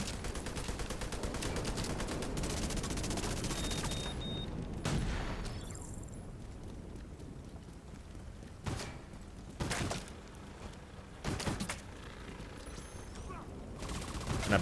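Assault rifle and submachine gun fire in The Division 2, dense rapid automatic bursts that run continuously for several seconds, then break into shorter separate volleys, close and loud.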